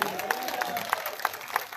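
An audience at a Hindi poetry recital in Hazaribagh, India claps steadily, a faint wash of applause with soft, evenly spaced claps.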